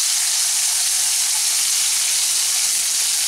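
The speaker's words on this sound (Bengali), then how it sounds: "এখন এগুলোকে হালকা বাদামি করে ভেজে নিচ্ছি।" Bitter gourd pieces fry in mustard oil with a little salt and turmeric, giving a loud, steady, unbroken sizzle with no voices.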